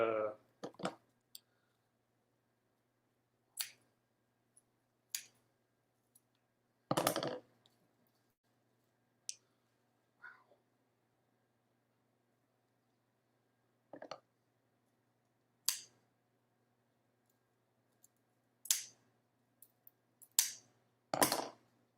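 Kitchen scissors snip through a cooked bird in scattered sharp clicks and crunchy cuts with long quiet gaps between, close up and fairly faint against a low background hum.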